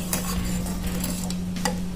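Tamarind chutney with red chili powder and sugar being mixed in a pot, a steady wet stirring and scraping with a couple of sharper utensil clicks over a constant low background hum.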